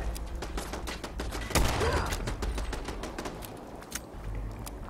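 Gunfire in the video game Fallout 4, a rapid burst of sharp shots with scattered single cracks afterward, heard alone over a low ambient background.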